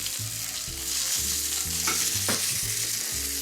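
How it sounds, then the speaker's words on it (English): Brussels sprouts sizzle in a hot oiled pan, a steady crackling fry punctuated by a few quick stirring scrapes, close and moderately loud with no voices. "Our Brussels sprouts are starting to cook. We're getting a little bit of sizzle in here."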